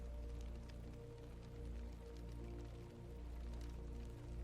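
Steady rain falls in a continuous soft hiss with scattered drips and patter, quiet and even throughout, with no voices.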